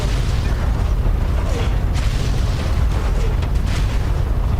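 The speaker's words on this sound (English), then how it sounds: "that explosion actually damaged me" An explosion in Fallout 3 produces a sustained, loud, rumbling roar with debris-like crackle and bursts spread through the clip, dense and low-heavy with no pauses.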